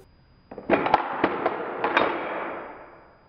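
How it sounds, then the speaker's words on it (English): Rapid burst of gunfire from the FMG-9 folding machine gun in Battlefield Hardline, a cluster of sharp close shots over about a second and a half, then a trailing reverberant decay; no talking. "FMG-9, which is a cool ass gun, and I'll show you why."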